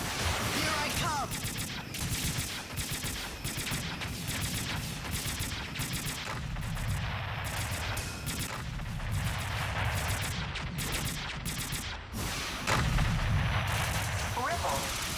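Weapon fire aimed at an enemy in the mech action game Zone of the Enders, rapid repeated blasts and heavy booms in steady bursts, loud and continuous across the whole stretch.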